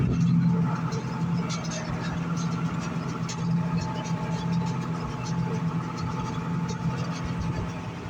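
A John Deere 4240 tractor pulls a Vermeer 605K round baler through a hay windrow, its engine a steady, close mechanical drone with a constant low rumble and clattering baler machinery throughout.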